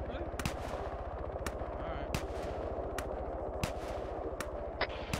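Rapid automatic gunfire from the Arma 3 military shooter runs continuously, with sharper single shots cracking over the steady burst and a voice faintly underneath.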